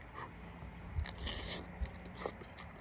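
Cheap noodles eaten close up while camping in a tent, with soft slurps, bites and a few crunchy chewing sounds scattered across a quiet background.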